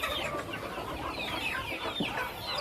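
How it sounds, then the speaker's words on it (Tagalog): Chickens cluck steadily on a farm in Bohol, several birds close by with overlapping calls and a few sharper squawks, continuous and fairly faint throughout. "Daghan manok diri mga tupay oh."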